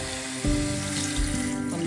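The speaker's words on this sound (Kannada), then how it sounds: "ಒಂದು ಅರ್ಧ ಲೋಟದಷ್ಟು ನೀರು ಹಾಕ್ಬಿಟ್ಟು" About half a glass of water is poured into chicken cooking in a pan for a chicken sambar, a short close splash that settles into steady bubbling and sizzling.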